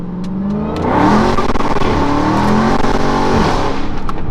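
A Dodge Hellcat revs hard and accelerates in first gear, its loud, close supercharged engine roaring and rising in pitch, dipping briefly and climbing again, with no talk over it.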